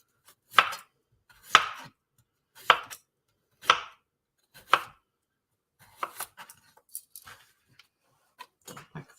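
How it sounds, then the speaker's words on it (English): A knife chops down through radishes on a cutting board, slicing them into thin circles: five evenly spaced firm thuds, then a quicker run of lighter taps, close and clear with no talk. "Just thinly slice these into little circles."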